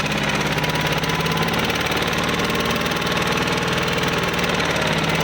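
A Yanmar 28 hp tractor engine runs steadily at idle, a loud, close, continuous diesel rumble with a knocking, vibrating pulse and no voices.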